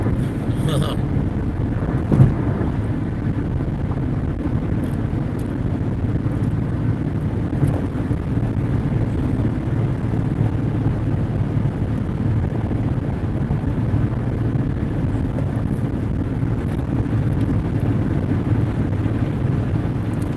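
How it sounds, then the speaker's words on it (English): Steady roar of gusty wind and road rumble while driving over the Grapevine summit in California, a continuous low, dense noise with no clear breaks, loud and close throughout. "They did say gusty winds on the summit."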